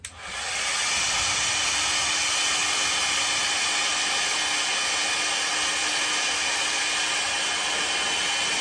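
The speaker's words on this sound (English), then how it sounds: "Hot air gun. The heat wrap is on the racket now" A hot air gun shrinking heat wrap onto a tennis racquet handle, switching on at the start and then blowing a loud, steady airy roar and hiss throughout, with no speech.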